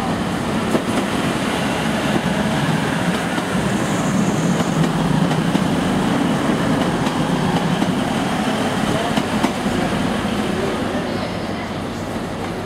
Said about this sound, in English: an express train just coming in